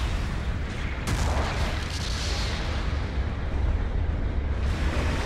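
A mobile suit exploding in the video game Gundam Battle Operation 2, heard as a sharp blast followed by a loud, sustained rumbling roar of battle explosions.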